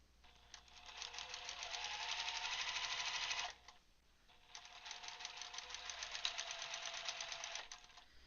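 Sewing machine running a continuous chain stitch on a large quilt project, a steady buzzing whir in two long runs separated by a brief pause near the middle, no voices over it.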